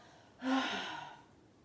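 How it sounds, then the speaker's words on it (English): Audible exhale during a yoga class: a single soft, breathy out-breath rises quickly, then tapers off gently over about a second, close and quiet. "a nice audible exhale"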